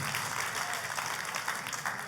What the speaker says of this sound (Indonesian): Tepuk tangannya mulai yang paling meriah buat Tuhan